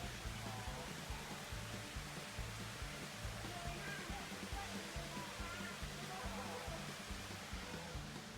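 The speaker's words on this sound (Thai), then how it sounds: "ตอนนี้เรามาน้ำตกนะครับ น้ำตกกระเพินที่นี่นะครับ" Steady, dense roar of rushing water at Krapoen waterfall fills the scene, a continuous broadband wash with low rumbling pulses underneath and no pauses.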